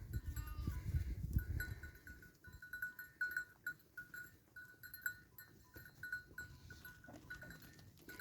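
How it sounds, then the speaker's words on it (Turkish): Sheep bleat here and there across an open field while a cowbell clinks repeatedly, with rustling and handling noise close by at the start. "Koyunlarımızı otlatıyoruz."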